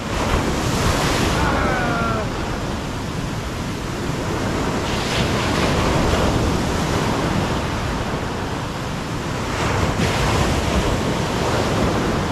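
Strong sea waves at night pounding the shore in rolling surges that rise and fall over several seconds, loud and close, mixed with gusty wind buffeting the microphone.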